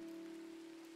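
Steady rain falls in the farming game Coral Island, a soft, even hiss with a constant low tonal hum running under it and no speech.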